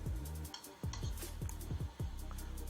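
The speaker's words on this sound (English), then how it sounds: "So I will start stirring it." Salt stirred into liquid soap in a container, with a spoon dragging and clinking in quick repeated strokes close by over a constant low hum.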